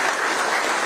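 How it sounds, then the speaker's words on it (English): Audience clapping fills a university press event announcing a new men's basketball coach for the Texas Longhorns, a dense, steady wash of applause from a crowd, loud and continuous with no voices on top. "Let's give him a round of applause for all he does for"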